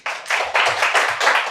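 Applause from a church congregation during a Sunday sermon: a short, loud burst of dense clapping from a group that starts suddenly and carries on steadily to the end.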